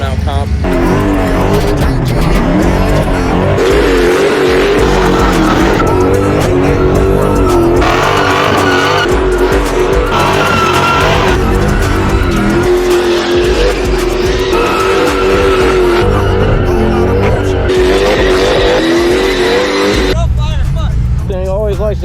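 A car doing a burnout at the Freedom Factory open burnout competition, a loud continuous engine roar with tire squeal sustained throughout, crowd noise and voices mixed in.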